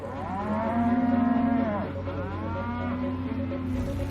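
Prime beef steers at a large JBS cattle feedlot, several long, loud moos overlapping one another over a steady low background hum.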